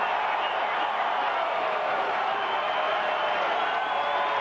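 A large stadium crowd at a 2002 Humanitarian Bowl college football game roars after a Boise State touchdown against Iowa State, a sustained broad wash of cheering that stays loud and even throughout.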